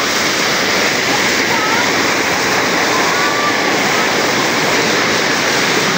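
Steady, loud roar of Balagbag Falls in Mahaba, Real, Quezon, a broad continuous rush of water filling the whole scene without letup, close by and unbroken.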